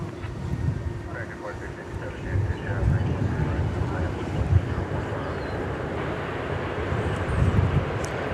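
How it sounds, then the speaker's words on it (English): A 21-year-old Delta Airbus A319 arriving from Los Angeles at DFW, its jet rumble swelling and surging under wind buffeting on the microphone, with some talk over it. "Delta Flight 521 from Los Angeles, a 21-year-old Airbus A319."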